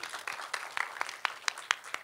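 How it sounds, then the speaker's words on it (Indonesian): Faint, evenly spaced claps from a conference audience on emissions-free Indonesia welcoming the final speaker, a quick steady rhythm lasting about two seconds. "Tepuk tangan."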